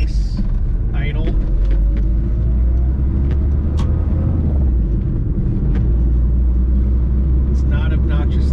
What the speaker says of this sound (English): once the car warms up, it's got a really nice idle.